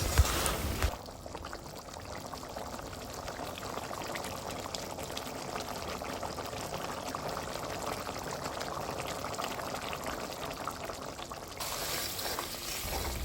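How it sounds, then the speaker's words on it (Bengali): Fish curry simmers in a pan, a steady soft bubbling and sizzling hiss that holds evenly, fairly close but low in level, with no one talking. "মাছ দেওয়ার পর একটু নেড়ে চেড়ে আরও বেশ কিছুক্ষণ সময় নিয়ে জাল করে নিতে হবে,"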